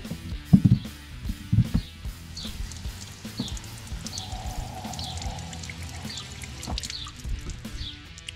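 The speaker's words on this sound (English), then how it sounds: "I got my handy dandy hose here" Water pours from a garden hose into a Yamaha jet boat in a steady, close trickle, with a few soft knocks near the start.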